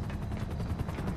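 Helicopter in GTA 5 Online, a dense, fast rotor chop thudding rhythmically and loudly, close and continuous for a brief moment with no talk.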